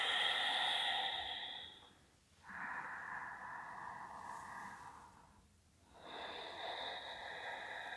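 Slow, deep breaths during yoga practice, a long soft exhale fading out, then another drawn breath and release, close and quiet with no talking.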